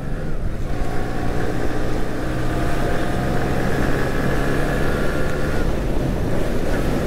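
A freshly serviced Yamaha RX motorcycle with new front shock springs rides along, its engine droning steadily beneath heavy, continuous wind rush, with no talking.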